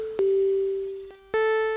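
The HEX cor synthesizer plays sine wave tones: a pure sustained pitch starting with a click, a brief dip, then a second, brighter note joined by stacked overtones.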